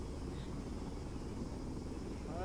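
A helicopter in the video game Arma 3 gives a steady, close rotor-and-engine drone that fills the whole stretch at an even level.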